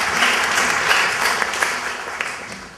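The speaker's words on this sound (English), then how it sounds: "A round of applause for the doctor, please." A lecture audience applauds a doctor during a talk on homeopathy, a steady wash of many hands clapping at once, loud and sustained, easing off slightly toward the end.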